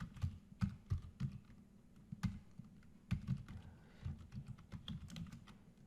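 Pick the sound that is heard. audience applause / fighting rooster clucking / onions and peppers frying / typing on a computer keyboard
typing on a computer keyboard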